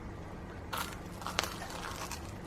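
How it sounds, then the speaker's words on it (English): A bite into crispy steam-toasted bread, hot with a soft moist inside, gives a brief close crackling crunch with one sharp snap, heard alone against faint room noise. "But do you hear the crunch?"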